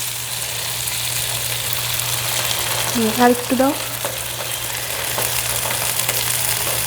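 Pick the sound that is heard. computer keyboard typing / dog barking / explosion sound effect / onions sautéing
onions sautéing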